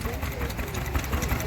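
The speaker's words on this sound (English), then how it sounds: "Another lovely little engine." A small Blackstone stationary engine runs at a vintage rally with a steady low chugging rhythm, heard close beneath people talking.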